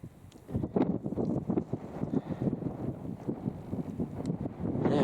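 Gusty wind buffets the microphone on an open fell during a wild camping trip in the Lake District, rough rumbling bursts coming and going, close and fairly quiet, with no talking.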